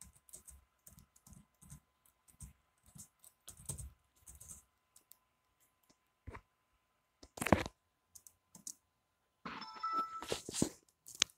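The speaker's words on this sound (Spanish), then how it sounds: "Voy a tener que introducir mi contraseña aquí" Short bursts of key presses on a computer keyboard as a password goes in, soft clicks in quick clusters separated by pauses, close and quiet, with a louder clack and a brief chime-like tone later.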